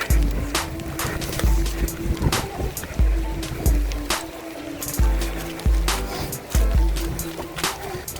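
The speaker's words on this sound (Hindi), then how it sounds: "काफ़ी ना पानी की तेज़ आवाज़ आ रही है।" Fast river water rushing in Cornwall, a loud steady wash with strong low rumbles and repeated knocks and bumps on top, heard close and without talk.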